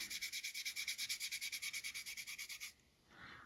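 Sandpaper rubbing back and forth over the paint on the roof of a model car, fast rhythmic close strokes, about two dozen in quick succession, then a stop and a softer scrape.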